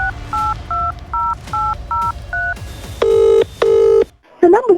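Telephone keypad tones beep in a quick, regular sequence of short dual-tone presses, then two longer, louder ringback bursts and a brief electronic chirp, heard alone with no talking.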